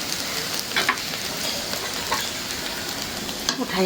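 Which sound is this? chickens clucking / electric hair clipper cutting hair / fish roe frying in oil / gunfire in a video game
fish roe frying in oil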